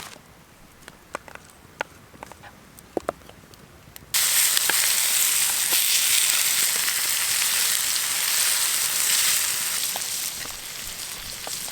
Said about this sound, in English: Not an efficient way to cook bacon.